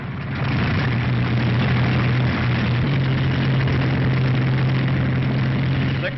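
Radial engines of a B-17 bomber run as a loud, steady low drone with a sustained hum, close by and continuous, with no speech over it.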